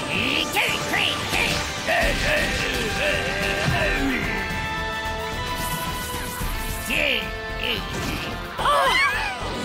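Turtwig's Razor Leaf attack in a Pokemon anime battle plays as a flurry of whooshing swishes and sharp whacks, with rising, sweeping effect tones and bursts of impact layered under music.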